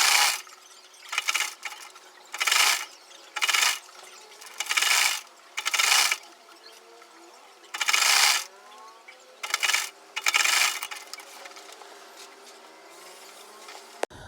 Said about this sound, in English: you take to the sewing machine and sew out the half an inch allowance we used on that part